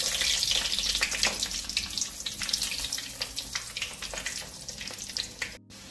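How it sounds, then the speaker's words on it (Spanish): Goat cheese croquettes fry in hot oil with a steady, dense crackling sizzle and bursts of bubbling that stay loud and close throughout, tapering slightly near the end. "Una vez que tengamos el aceite calentito, vamos a ir friendo nuestras croquetas."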